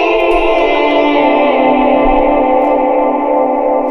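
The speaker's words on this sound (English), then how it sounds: "things can get very, very muddy and messy very quickly if you have too much delay" An ambient electric guitar runs through far too much delay, with slide and volume-pedal swells. The notes pile into a thick, muddy wash of repeating echoes that hum on without a break.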